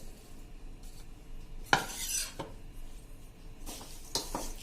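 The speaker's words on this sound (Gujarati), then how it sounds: "આ રીતે ગોળ ને મસાલો ને કટકા આ બધું સરસ આપણે મિક્સ કરી લેશું" Raw mango pieces stirred together with jaggery and spices for a Gujarati-style pickle, with a few sharp clinks of a spoon against a metal bowl amid soft scraping and mixing sounds, close and moderately quiet.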